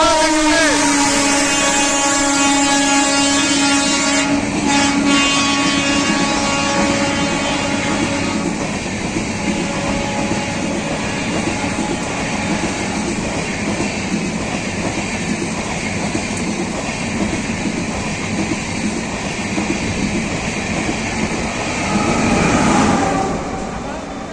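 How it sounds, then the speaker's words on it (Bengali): Amrit Bharat Express, Sealdah–Banaras train 22587, rushing through Dakshineswar station: loud continuous roar and rhythmic clatter of wheels on rails, with a horn-like tone at the start and a fading swell at the end. "মুহূর্তে দক্ষিণেশ্বর স্টেশনে ঢুকছে train number double two five eight seven Sealdah Benaras অমৃত"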